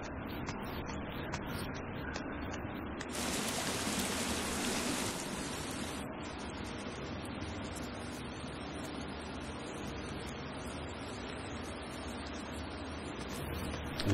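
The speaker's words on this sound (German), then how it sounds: "Der Wasserfall ist ganz schön laut." A loud waterfall in the survival game The Forest roars as steady broadband rushing water, continuous throughout and briefly brighter in the middle, with no voices.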